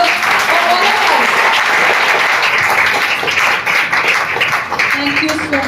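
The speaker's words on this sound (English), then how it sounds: "A big round of applause for all of us." Steady, dense applause from a crowd at a foundation day function, loud and continuous throughout with no pauses.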